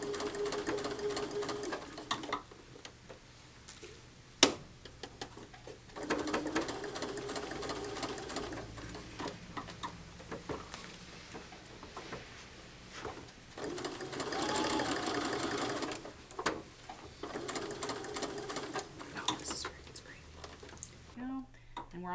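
A sewing machine stitches a curved Drunkard's Path quilt seam in bursts of steady mechanical whirring, broken by short pauses and a few sharp clicks, with soft speech and handling noises between runs.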